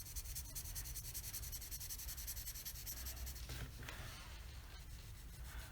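Colored pencils rubbed quickly across paper in a steady, continuous scratchy shading sound, close and quiet, unbroken through the whole stretch with no talking.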